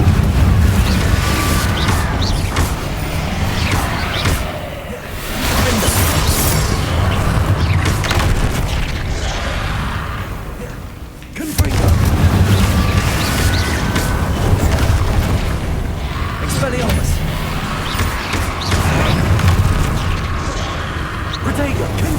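Repeated Confringo fire-spell blasts in Hogwarts Legacy go off in a dense, loud, booming battle mix, heavy low rumble running almost continuously with a brief lull midway, while a voice talks over the fighting.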